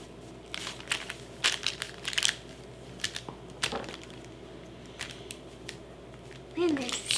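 A chip bag crinkles and crunches as it is cut to size with scissors for a crinkle tag baby toy, with sharp close crackles and snips scattered through the clip and a voice speaking over them.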